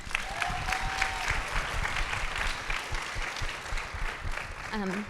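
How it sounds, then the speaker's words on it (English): An audience at a Glitter and Concrete performance event at Lincoln Center breaks into dense applause mixed with crowd voices and a few cheering whoops, steady and full throughout. "Round of applause for Michael."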